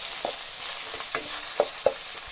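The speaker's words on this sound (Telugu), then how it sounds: "ఈ వెల్లుల్లి పచ్చివాసన పోయేదాకా వేయించుకోవాలి" Ginger garlic paste fries with onions and tomatoes in a pan, a soft steady sizzle with a few sharp clicks and scrapes of a spoon stirring, close and moderately quiet.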